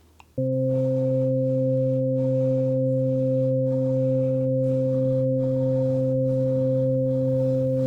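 A steady, pure synthesizer sine wave tone with a few even harmonics starts abruptly and holds unchanged at a loud level until the end.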